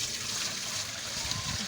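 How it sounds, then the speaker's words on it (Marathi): Water is poured into a cooking pot to boil sago for papad, a short close trickling splash heard over a noisy background. "तर पातेल्यामध्ये आपण पाणी घेऊया. शाबू शिजवण्यासाठी पाणी आपण घेऊया."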